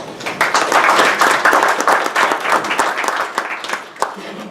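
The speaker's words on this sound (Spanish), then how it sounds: "y para quien pido un fuerte aplauso" Audience at a panel session of Peruvian artisanal fishermen's groups breaks into loud, sustained applause, dense clapping that fills the room steadily for several seconds, with a few voices mixed in.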